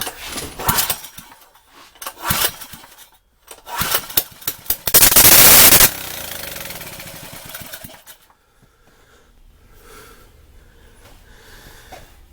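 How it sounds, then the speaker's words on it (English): A free, long-dead Champion generator sputters through several short cranking bursts, then fires and roars loudly for a few seconds before dying back to a faint low rumble. "It ran."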